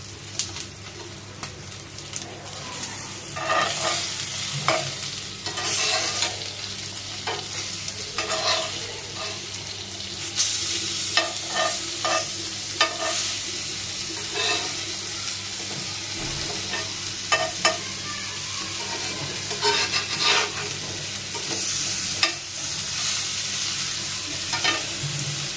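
Fish fries in hot oil in a pan as it gets turned over, giving a steady loud sizzle with scraping and stirring noises throughout.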